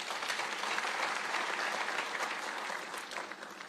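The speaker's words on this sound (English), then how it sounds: "Let us clap for ourselves." A university graduation audience in Nairobi claps together, a thick, even wash of applause from a large crowd that holds steady and eases slightly at the end.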